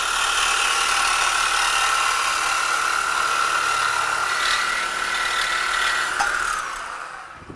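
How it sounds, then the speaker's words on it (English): A BMW E92 M3 runs with its muffler removed, giving a steady, loud, raspy idle with a rattling buzz close by; the engine is shut off and the sound fades out at the end. "That way they can see what it sounds like without the muffler"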